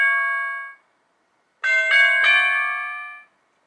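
Tubular bell tones from a keytar with sustain engaged: a sustained bell note fades out, then after a short gap a second chime rings out with two quick re-strikes and holds bright harmonics before decaying, clear and alone.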